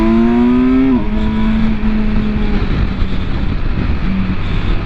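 Kawasaki Versys 1000 SE LT+ motorcycle engine climbing through the revs, then dropping sharply on a gear change and pulling on under heavy wind rush, loud and close throughout.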